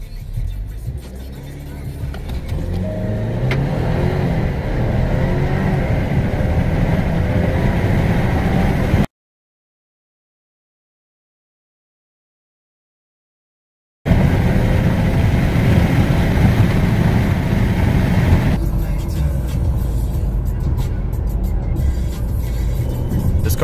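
A 2018 Alfa Romeo Stelvio Sport accelerates hard from 0 to 60 mph, heard from inside the cabin. The engine revs rise in steps through the gears with a loud, steady roar, and a silent gap falls in the middle.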